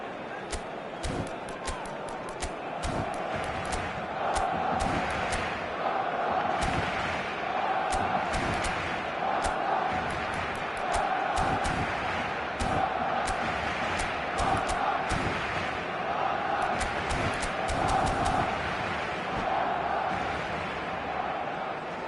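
Stadium crowd noise from the football video game eFootball, a steady broad roar of applause and cheering that fills the whole stretch, with scattered sharp thumps and claps on top and commentary running over it.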